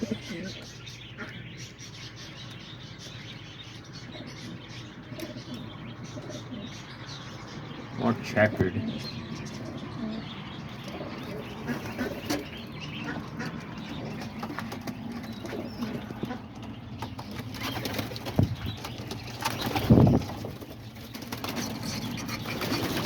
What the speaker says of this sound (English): there's all the pigeons right here